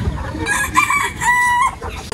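Chickens cluck and squawk up close, one call rising into a drawn-out crow-like cry, with no talking.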